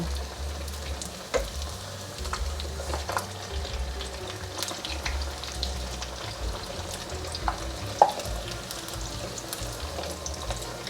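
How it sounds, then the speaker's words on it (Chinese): Potato and pumpkin pieces deep fry in hot oil with a constant low bubbling sizzle and a faint rumble, broken by occasional light clicks of utensils, with no speech. "先让它炸定型，等下再来翻动"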